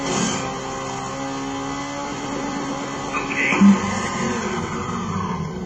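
Rally car engine in the Colin McRae 2.0 video game, a steady droning buzz with a brief rise in revs near the end, playing alone without talk.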